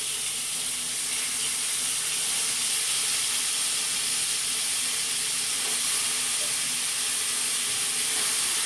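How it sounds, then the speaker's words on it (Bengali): Washed chicken pieces sizzling in about two spoons of hot oil in a pan, a steady, loud frying hiss throughout with no pauses. "এবার মাংসটা ওর মধ্যে দিয়ে দিচ্ছি।"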